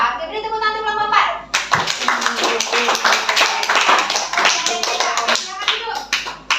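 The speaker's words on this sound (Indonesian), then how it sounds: "Oke, beri tepuk tangan kelompok 4" Classroom clapping for a student group breaks out after a voice, a dense burst of many hands from a class of children, steady and close for several seconds with some voices mixed in.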